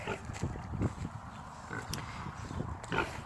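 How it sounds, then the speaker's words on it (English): Low, rough pig grunts come in short bursts against steady outdoor background noise, fairly close and moderately loud. "This is our daddy pig."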